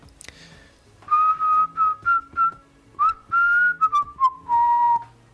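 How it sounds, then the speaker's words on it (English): Someone whistles a short tune in a James Bond film, a clear, close melody of sustained notes in two phrases with brief gaps, over a faint background score. "All you gotta do is whistle."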